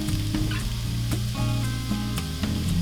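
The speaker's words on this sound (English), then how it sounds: "I'm going to saute my vegetables." Vegetables sauté in extra virgin olive oil in a small Dutch oven, giving a steady close sizzle broken by occasional stirring clatters, with no talking.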